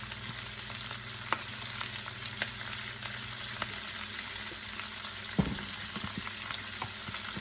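Cabbage and bacon sautéing in a pan for Creole cabbage, giving a steady close sizzle with occasional stirring clicks and a sharper knock near the end.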